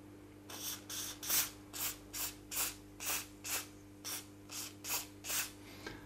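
CorrosionX is sprayed from an aerosol can onto the circuit boards of a CC3D Mini 250 quadcopter in about a dozen short hissing bursts at an even rhythm, close up over a steady low hum.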